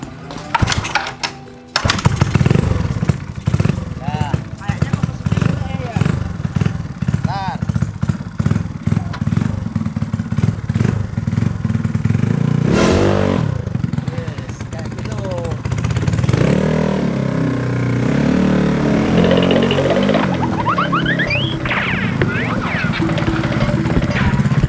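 A Yamaha Mio drag motorcycle, converted from a trail bike, is kick-started and its engine revs loud and close, rising and falling in bursts while people talk over it.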